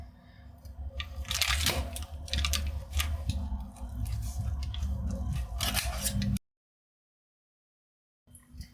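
Knife cuts trimming the edges off a tray of German nut corner pastry, giving close crunchy scraping and crisp cracking strokes for about six seconds before sudden silence, with faint background noise.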